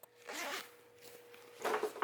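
A zipper on a plush stationery pouch is pulled open close by in two quick raspy strokes, the second one louder, with a short pause between them.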